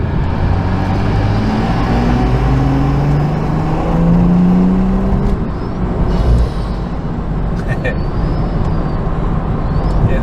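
A BMW 340i with a B58 engine and Tomei exhaust drives on the road. A steady engine drone rises and falls in pitch under road rumble inside the cabin, with some talk.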